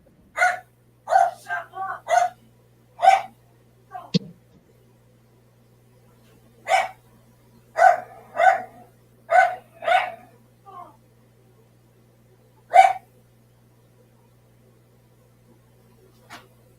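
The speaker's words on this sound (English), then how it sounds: "the dog won't stop barking" Bursts of a dog barking nearby, several quick barks, a pause, then another run of barks and a final lone bark, over a low steady hum.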